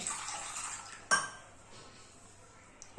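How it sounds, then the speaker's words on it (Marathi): Water is poured into a steel mixer jar while preparing batter for alu vadi, a soft splashing wash with a single sharp metallic clink partway through, then a quieter trickle, close by and without speech. "आता पाणी आपण आहे ना मिक्सरच्या भांड्यातच ओतून घेऊया"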